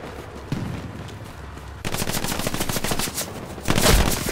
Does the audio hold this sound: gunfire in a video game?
yes